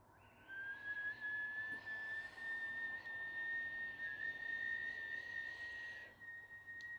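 A whistled inhale during a Kundalini yoga breathing exercise, a single sustained, thin, steady whistle held for several seconds close up, alone in a quiet room.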